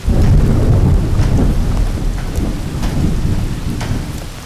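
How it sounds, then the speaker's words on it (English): A heavy Montana thunderstorm pours rain over a log mansion construction site, with steady loud rainfall and several rumbling thunder rolls close by; no voices. "These thunderstorms have slowed us down."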